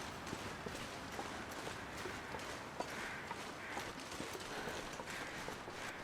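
Rapid hoof-like footfalls of a running deer in The Long Dark video game patter continuously across the ground, fairly faint and steady, with no one speaking.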